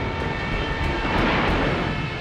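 German aircraft passing overhead, a loud, continuous roaring propeller engine drone that swells slightly as it goes by, with no voices.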